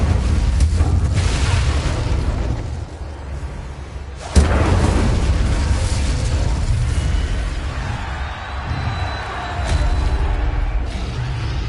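The Incendio fire spell in Hogwarts Legacy erupts in loud rushing bursts with a sharp boom partway through, all over a dense, rumbling background.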